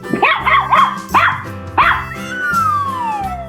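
A dog barks repeatedly in a 3D animal slide video game: four close, loud cartoon barks in quick succession, then a falling whistle-like game tone.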